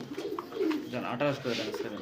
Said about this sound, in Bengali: খুবই সুন্দর একটা কবুতর ব্রিডিং চলতেছে